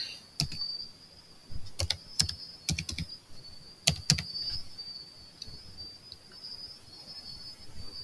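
Typing a mobile money number on a keyboard: a handful of sharp key clicks in quick clusters, then fading, over a steady high insect-like chirp in the background, with no speech.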